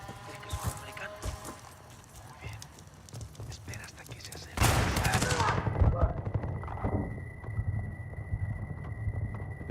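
Gunfire in the video game Battlefield 6 multiplayer, rapid bursts and scattered shots that give way midway to a louder, sustained barrage close at hand, with a steady tone running underneath.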